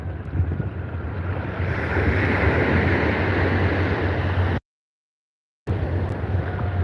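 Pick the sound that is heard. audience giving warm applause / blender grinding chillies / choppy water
choppy water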